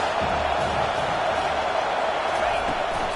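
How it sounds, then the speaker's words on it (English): Football stadium crowd at a UCLA vs Washington game roaring and cheering for the defense on third down, a dense, steady wall of noise with a commentator talking over it. "Decibels rising as the crowd gets behind this defense on 3rd down."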